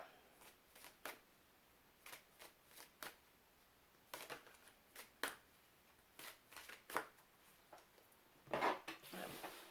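Oracle cards being shuffled and drawn by hand, a series of quick crisp riffling bursts and soft slaps at irregular intervals, close and fairly quiet, with a louder flurry near the end.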